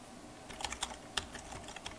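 A command is typed on a computer keyboard as a quick, irregular run of sharp, close key clicks over a quiet background, with no voices.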